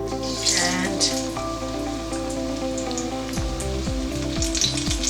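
Onion pakora batter fries in heated oil with a dense, steady sizzle like rain, while tonal music plays over it and no one speaks.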